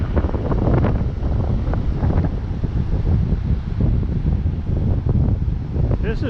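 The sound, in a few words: waves breaking in a bay with wind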